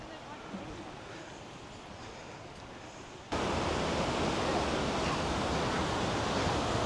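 Water flowing in the Nikas river near Birendranagar, Surkhet, a steady broadband rush that steps up sharply louder midway, as if the source moved nearer to the current.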